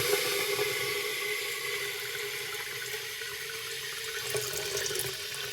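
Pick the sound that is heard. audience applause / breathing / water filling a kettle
water filling a kettle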